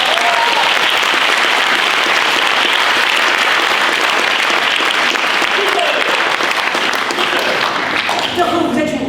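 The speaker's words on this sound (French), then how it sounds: "On peut l'applaudir." Sustained, loud audience applause fills an evening eloquence competition final hall, a dense wash of many hands clapping evenly throughout without pause.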